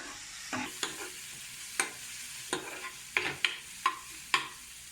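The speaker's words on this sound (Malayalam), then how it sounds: "അതിന് വേണ്ടിയിട്ടാണ് നമ്മൾ കുറച്ച് നേരം ഒന്ന് വഴറ്റി കൊടുക്കുന്നത്." Garlic and onion sautéing in coconut oil for Kerala-style dal curry, a low steady sizzle punctuated by regular sharp scrapes and taps of a spoon stirring in the pan, close and quiet, no talking.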